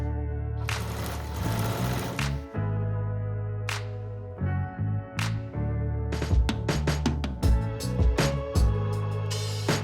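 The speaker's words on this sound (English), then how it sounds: "Sew around the round shoulder pad to secure the volume fleece on the lining fabric." Sewing machine stitching volume fleece onto lining fabric around a round shoulder pad, a close mechanical whirr in several bursts, first longer runs and then quick short stops and starts.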